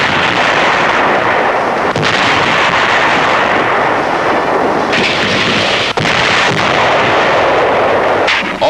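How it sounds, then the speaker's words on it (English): Wartime newsreel artillery fire during the air and naval bombardment of Saipan, a loud, dense, continuous roar of blasts and gunfire with sharper reports standing out, no voices. "After 4 days of air and naval bombardment, United States Marines take over."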